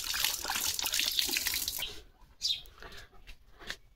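A water tap runs with a splashing gush for about two seconds, then stops, followed by a few scattered drips and small splashes nearby.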